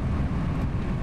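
The thrust reversers deploy on an A320 in the X-Plane 11 flight simulator, making a steady, loud broadband roar of engine and airflow. It lasts about a second with no speech.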